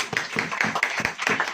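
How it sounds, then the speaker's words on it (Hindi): Church congregation clapping in unison during a sermon, a brief run of about seven evenly spaced claps at a steady rhythm, moderately loud and close. "ताली बजाइए।"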